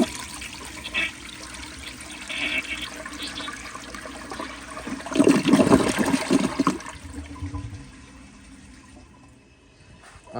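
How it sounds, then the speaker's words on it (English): A 1987 Kilgore Aladdin toilet flushing up close, a gurgling rush of water that swells in the middle and then drains away to a quieter trickle. "here is a close-up flush."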